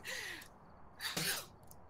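A single sharp sneeze from a person nearby during a livestream of the ghost-hunting game Phasmophobia. It is a loud breathy burst lasting about half a second over a faint background hiss.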